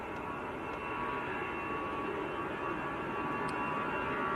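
An easyJet Airbus A320 rolls away at Manchester Airport, a steady, moderately distant jet engine roar with a faint high whine that holds level throughout.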